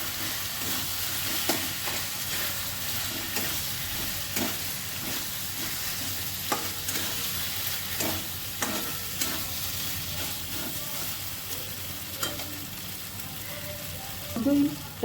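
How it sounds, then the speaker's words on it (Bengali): Grated paneer gets stirred in a hot frying pan with tomato and yogurt, giving a steady sizzle with repeated scraping strokes from the spoon and a louder clatter near the end. "পনিরটা ভালো করে মিশিয়ে দেবো।"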